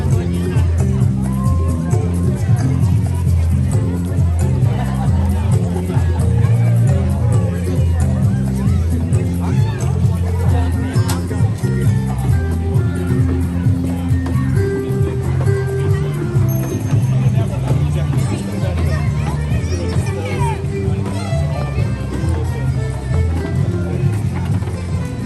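Steady crowd chatter fills a busy walkway at Disney's Animal Kingdom during the holiday season, a dense, continuous babble of many voices with no single voice standing out.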